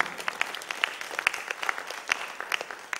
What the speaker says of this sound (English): please join with me to give a good round of applause